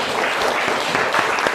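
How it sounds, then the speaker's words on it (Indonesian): A small group in a teacher-training classroom gives a round of applause for a team, broad steady clapping that fills the whole moment at moderate loudness, with no talk over it. "Beri aplaus untuk kelompoknya Mbak Ocha."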